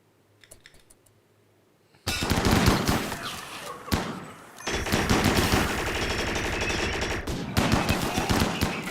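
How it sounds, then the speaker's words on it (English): Rapid bursts of gunfire crackle through a colony-building video game while defenders gather plasteel for an endgame fight. A quiet stretch gives way to loud, dense automatic fire with sharp single shots mixed in, and it keeps going with short pauses. "And is he firing at Debois?"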